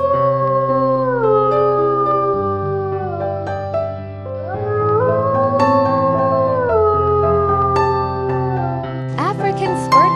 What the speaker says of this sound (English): Arctic wolf.